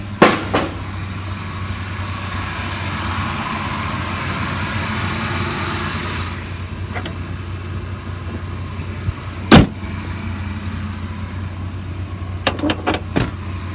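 A 2000 Chevy S-10's engine runs steadily and is revved higher for the first several seconds, then settles back to a lower drone, with a few sharp knocks and thumps near the end.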